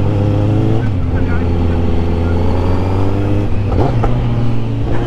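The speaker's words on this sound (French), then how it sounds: "T'as vu quand je rétrograde?" A 2021 Kawasaki Z900 with a quickshifter drones loudly and steadily as it downshifts while riding, with a blip and engine note change near four seconds under constant wind roar.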